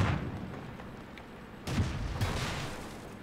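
Tank cannon fire from a Leopard taking sniping shots in the World of Tanks game. Several loud booms sound over a rumbling battle background, with sharp blasts near the start and in the middle. No one speaks.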